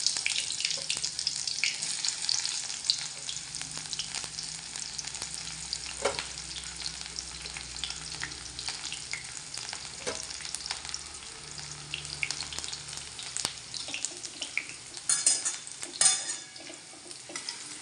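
Cumin seeds and whole spices fry in hot oil for rajma, giving a steady, fairly quiet sizzle with occasional stirring clinks throughout.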